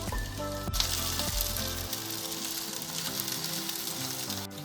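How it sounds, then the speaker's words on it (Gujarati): Ragda patties made with green peas frying on a pan over a low flame, a steady, close, continuous sizzle with faint background music and no voices. "એક સાઈડ સરસ બ્રાઉન શેકાઈ ગઈ છે તો આપણે બીજી સાઈડ પણ એ રીતે બ્રાઉન શેકી લઈએ"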